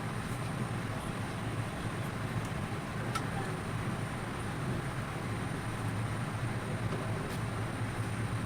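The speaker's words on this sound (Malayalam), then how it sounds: "ട്രെയിൻ കൃത്യമായി തന്നെ ഓടിക്കൊണ്ടിരിക്കുകയാണ്." A train runs steadily along the track, its constant rumble and rattle heard from inside the carriage while approaching Bangalore City station.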